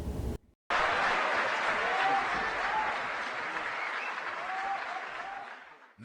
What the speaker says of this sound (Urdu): جیسے یہ تقریر چھوڑ کے گئے، عوام تالیوں سے گونج اٹھی۔